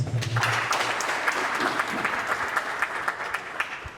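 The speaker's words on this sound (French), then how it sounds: "je demande l'applaudissement pour Monsieur le maire" An audience at a back-to-school event applauds the mayor, a dense burst of clapping that starts loud and gradually thins over a few seconds, with a low hum in the background.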